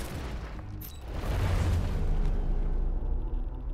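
A cannon fires in the tactical video game Into the Breach: a deep, rumbling explosion swells after a short lead-in and holds for a couple of seconds before fading, with no talking.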